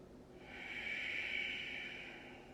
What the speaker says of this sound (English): Big breath. Loud breath. Breathe in.